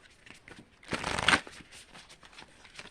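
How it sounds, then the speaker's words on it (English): A brief burst of tarot cards being riffle-shuffled, a quick papery flutter lasting about half a second amid quiet surroundings. "Let's get some more shuffles in here."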